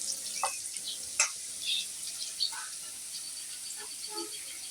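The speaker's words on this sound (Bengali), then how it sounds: "আমি পেঁয়াজটা ভালো করে ভেজে নিচ্ছি" Onion frying in a pan: a soft, continuous sizzle with scattered small pops and brief clinks of stirring, heard close and at moderate volume, with no talking.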